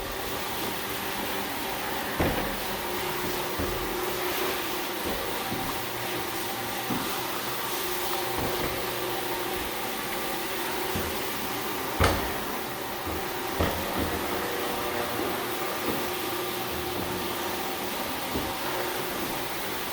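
A floor buffing machine works slowly over gray floors, giving a steady motor drone throughout with occasional soft knocks and clicks.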